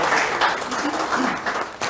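Studio audience applause welcoming a young political leader as a guest on a televised interview, a broad wash of clapping that swells and dips for about two seconds with no talk over it.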